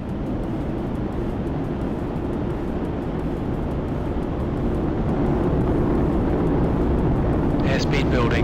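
Airliner engines roaring steadily and loud through the takeoff roll out of Dallas bound for Mexico City, a dense continuous rumble that swells slightly toward the end.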